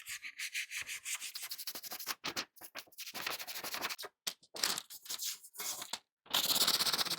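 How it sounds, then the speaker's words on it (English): Sandpaper rubbed by hand along a line on a trash-to-treasure project piece, a close, scratchy rasp in quick repeated strokes broken by short pauses, with no talk. "I'm just going to take some sandpaper, and then I'm just going to go along that line and get it cut off"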